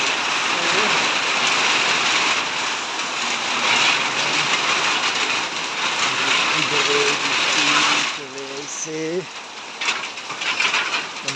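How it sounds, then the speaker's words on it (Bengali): Wind-driven rain pours down during a sudden storm, a dense continuous hiss that fills the whole stretch, with a voice talking intermittently underneath. "একটু পর পর বৃষ্টি পড়তেছে আকাশ থেকে"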